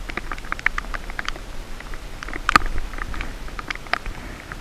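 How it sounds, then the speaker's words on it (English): Rain falls along the Upper Delaware River, a light, scattered pattering of drops ticking close by with a few sharper taps, steady and without voices. "Well, the rains are back"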